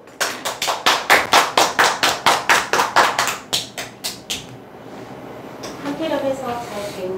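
About fifteen sharp, evenly spaced claps in a steady rhythm, close and loud, then stopping as a voice begins speaking.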